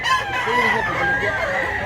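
A rooster gives one loud, close crow with a rising, wavering call that lasts under two seconds.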